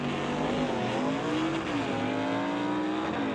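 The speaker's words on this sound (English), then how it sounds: "Everybody dealing with just a little bit of tire spin on the start line as the tires grab hold of the traction on the track" Drag race cars launching off the start line at an NHRA divisional event at Mission Raceway, a steady loud engine roar with rising pitch and a hint of tire spin as the tires grab traction.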